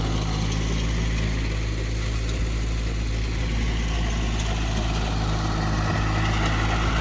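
A tractor fitted with a rotavator idles in a field, giving a steady, loud engine drone that holds an even level throughout.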